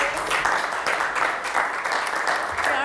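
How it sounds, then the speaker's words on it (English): Crowd at a VR industry conference in London applauds after a session, a brisk wash of many hands clapping at moderate loudness, continuous for a few seconds. "Big round of applause for Chris."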